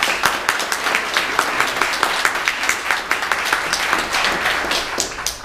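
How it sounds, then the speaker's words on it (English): A conference audience at a New York database event applauds as a speaker is welcomed to the stage, with dense, lively clapping that rises and falls in quick bursts for several seconds. "Let's give him a great big round of applause"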